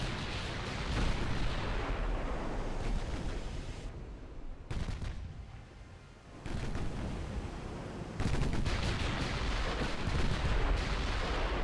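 The 14-inch guns of the battleship Fuso fire in the naval game Ultimate Admiral: Dreadnoughts, giving heavy booming blasts with a long rumbling roar that dips briefly and then surges again, loud and continuous throughout with no talking.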